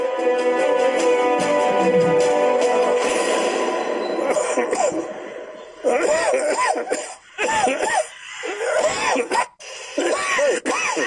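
A person coughs repeatedly in short harsh bursts, mixed with throat clearing, after a stretch of loud background noise.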